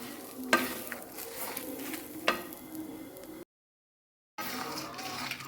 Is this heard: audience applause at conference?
no